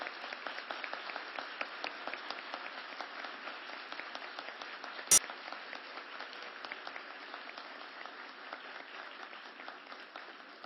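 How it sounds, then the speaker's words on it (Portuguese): An audience at a science and technology week event claps for hackathon winners, a steady, fairly faint wash of applause running the whole stretch with one sharp click midway. "para que a gente possa aplaudi-los"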